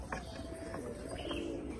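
A pigeon with safety pins fastened through its wings coos softly in a low, steady murmur, with faint chirps and background rustle around it and no voices.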